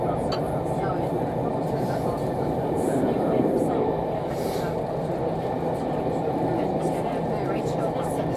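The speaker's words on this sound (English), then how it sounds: "Spent the afternoon on the steam train" A steady, rumbling steam train ride aboard SR no 34046, from Northam Junction, with constant low mechanical noise and carriage clatter, voices faintly mixed in throughout.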